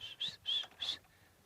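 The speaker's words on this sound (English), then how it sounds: "You can hear the waxbills going" Three high, thin whistled calls from blue waxbills in quick succession, faint and somewhat distant.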